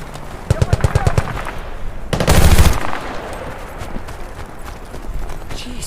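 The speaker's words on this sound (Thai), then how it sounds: "สไลด์มายิง" Automatic gunfire from the PC shooter Battlefield: Bad Company 2, several rapid bursts in quick rhythm, then a louder, denser blast of shots near the middle and scattered fainter pops with game ambience afterward.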